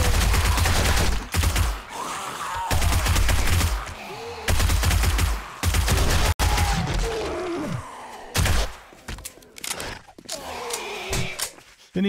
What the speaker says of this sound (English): we're going to be shooting up a wandering horde here